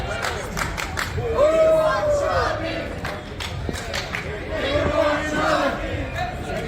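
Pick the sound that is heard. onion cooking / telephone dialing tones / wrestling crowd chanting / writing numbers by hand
wrestling crowd chanting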